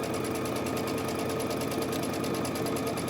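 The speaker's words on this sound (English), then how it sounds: "we're just going to sew that 1/4 inch seam" A sewing machine runs steadily without pause, stitching a quarter-inch seam in quilt block pieces, its fast even whir close and constant throughout.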